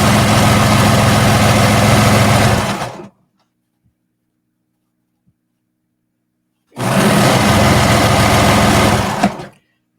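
Two bursts of a sewing machine running a stretch stitch seam on sports bra fabric, each a loud, fast, even whir of about three seconds, separated by several seconds of near silence.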